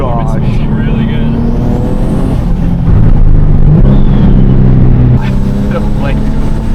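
A turbocharged VQ engine in a Nissan 370Z NISMO roars loudly from inside the car, with a rising spool whine and a shift in engine note mid-clip, heard close throughout.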